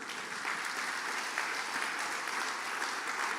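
A church congregation applauds steadily during an evening family service, an even wash of many hands clapping at moderate level with no speech over it.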